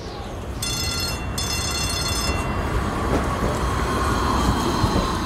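Tram arriving along city rails, a steady rumbling roll with high-pitched wheel squeal and a brief bell-like ring early on, continuous and moderately close.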